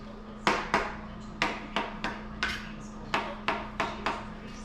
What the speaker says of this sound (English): cut it in about 1/4 inch slices, and then take those 1/4 inch slices and turn them into 1/4 inch pieces